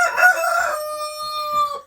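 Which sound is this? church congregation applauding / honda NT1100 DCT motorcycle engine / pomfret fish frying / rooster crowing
rooster crowing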